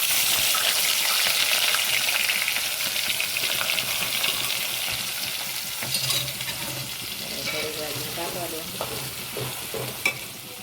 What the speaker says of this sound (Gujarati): તો આપણે 2 ડુંગળી લીધી છે। તો આપણે એનો વઘાર કરીશું તેલ નાખી।